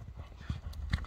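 Hoofbeats of a young horse for sale being ridden outdoors in Kyrgyzstan, a few quick clip-clops close by and moderately loud, with no voices.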